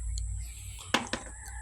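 Two short clucks from farm chickens come close together over a steady low hum, with faint background noise on either side.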